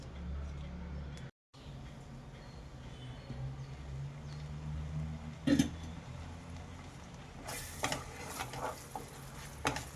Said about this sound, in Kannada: ಇದು ಚೆನ್ನಾಗಿ ಮಸಾಲೆ ಫ್ರೈ ಆಗಲಿ